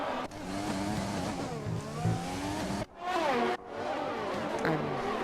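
A Formula 1 car engine in the F1 2020 video game, heard in a race as the car pulls away from the one ahead: a loud, continuous high-revving whine rising and dropping with gear shifts, plus a brief dip near the middle.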